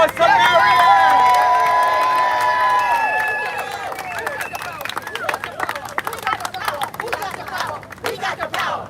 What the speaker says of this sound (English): Let's give a round of applause to Maryanne.